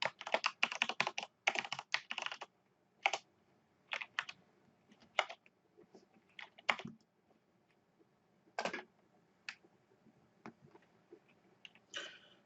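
Code being typed on a computer keyboard, with close, crisp key clicks in fast runs and scattered single taps against a faint background hum, no voices.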